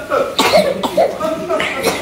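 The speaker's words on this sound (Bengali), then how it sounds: "সব কাশি দিতে দিতে শেষ।" A person coughs several times in quick succession, close and loud, with voices talking around the coughs.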